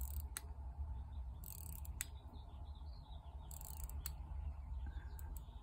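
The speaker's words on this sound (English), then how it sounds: "And you can hear it, the gears." Rapid, fine ratcheting clicks of a 1938 Waltham 21-jewel military wristwatch crown being wound, steady and close, with a few sharper clicks along the way.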